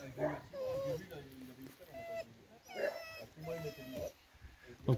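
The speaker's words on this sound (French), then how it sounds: "Donc ils ont deux chiens, deux petits chiens." Two small dogs at a roadside caravan camp whimper and yip in high, wavering cries, fairly close and moderately loud, mixed with people talking.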